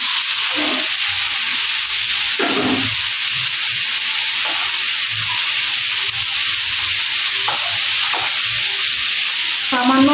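Bottle gourd and fried potatoes with salt are sautéed and stirred in a pan, giving a steady close sizzle with scraping stir strokes throughout, no talking.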